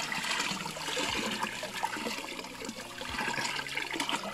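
Icy cold lake water splashing and trickling steadily as debris and grass are cleared by hand at Lake Ingol, a continuous watery wash with a few soft knocks, no voices.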